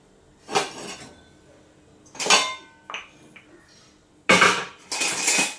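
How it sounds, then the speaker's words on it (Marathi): Everyday steel utensils and pots being set down and arranged, four separate bursts of clanking and clinking metal, close and loud, with quiet pauses between them. "आता मांडणार आहे भांडी।"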